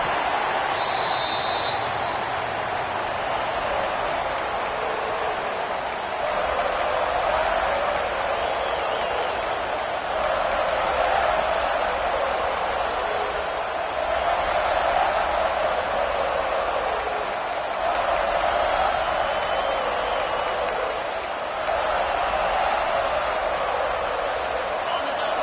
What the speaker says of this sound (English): listen to this crowd noise. This stadium is vibrating